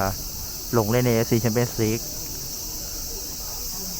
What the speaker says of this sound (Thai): เสียงจิ้งหรีดร้องตลอดเวลา